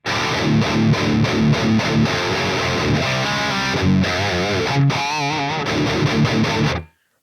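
Distorted guitar through cab 1 of the Neural DSP Archetype Gojira plugin, starting with tight palm-muted chugs, then sliding and vibrato-bent notes in a heavy riff before returning to chugs, loud and solo.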